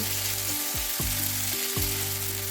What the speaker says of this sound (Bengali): এবার এর মধ্যে আদা রসুন আর কাঁচা লঙ্কার পেস্টটা দিয়ে দিতে হবে আবার নেড়ে নিতে হবে